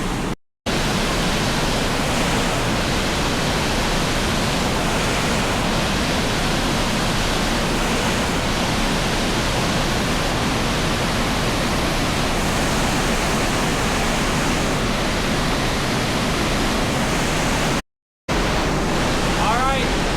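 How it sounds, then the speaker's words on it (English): Creek water rushing steadily while someone wades across on foot on an outdoor trip in Kentucky. A loud, continuous broadband wash of flowing water, close by, with brief dropouts near the start and end. "Alright, I'm crossing the creek."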